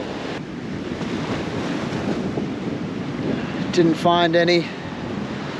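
Sea waves surge and wash against a cliff edge on a remote Indonesian island, with wind buffeting the microphone throughout and someone speaking briefly near the end.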